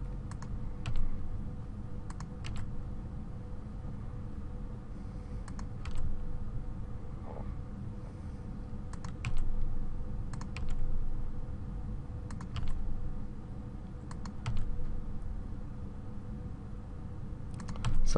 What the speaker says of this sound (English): I'm just hitting the extrude, or using the extrude tool by hitting E each time and then clicking.